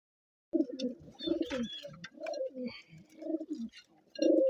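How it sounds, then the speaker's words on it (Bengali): A pair of pigeons, one male and one female, coo close by in repeated low, throaty phrases with a few higher chirps between them. "এই যে দুটা কবুতর, এর একটা হলো মাদি, একটা নর।"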